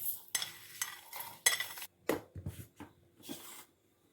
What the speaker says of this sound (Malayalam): അതേപോലെ കടുകും വറുത്തെടുക്കാം. കടുക് പൊട്ടി തുടങ്ങിയിട്ടുണ്ട്.